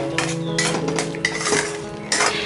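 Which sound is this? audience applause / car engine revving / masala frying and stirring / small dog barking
masala frying and stirring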